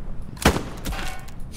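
A sniper rifle fires once in the World War II shooter Hell Let Loose, a sharp loud crack with a short rolling echo, followed by a fainter second report under ambient battlefield noise.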